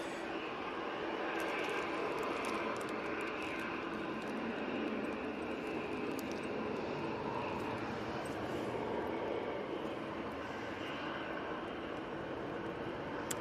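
A Virgin Atlantic airliner inbound from JFK makes a faint, distant, steady engine rumble that holds evenly throughout, with small scattered clicks and no clear talk.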